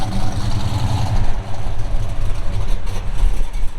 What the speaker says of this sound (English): So let's watch this Road Runner back out a little bit.